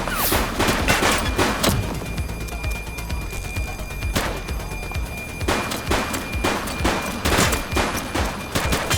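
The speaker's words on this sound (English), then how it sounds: "She's shooting!" Dense, loud gunfire in The Precinct video game: rapid overlapping shots and bursts fire almost nonstop, with sharp louder cracks standing out over a constant roar.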